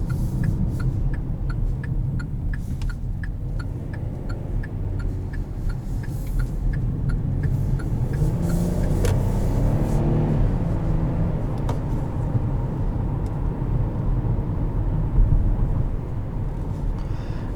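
A 2020 Kia Sorento S cruising along a back road, heard from inside the cabin as a steady low engine and road drone with faint ticking, no talking.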